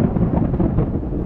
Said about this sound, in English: that ominous note was thunderstorms.